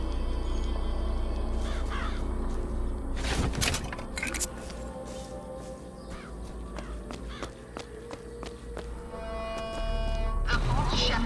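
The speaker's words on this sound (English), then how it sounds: "You just launch a shit ton of birds at people." A flock of crows launched as an attack in the Bioshock Infinite video game, cawing harshly in repeated bursts amid crackling, shattering game effects and speech-like sounds, with a low rumble running throughout.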